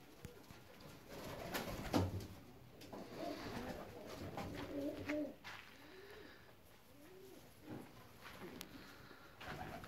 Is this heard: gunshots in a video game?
no